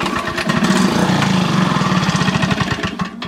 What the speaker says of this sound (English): So the engine does turn over